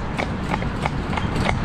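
Hooves of Gogo, a barefoot cob horse pulling a driving vehicle, clip-clop in a steady, even rhythm, close and fairly loud over road noise.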